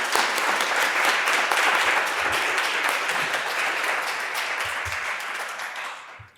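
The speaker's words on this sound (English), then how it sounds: "give a round of applause to Anda Rottenberg" Audience applause welcoming a guest speaker at an evening talk series event in Iceland, a dense, sustained roomful of clapping that slowly fades out over several seconds.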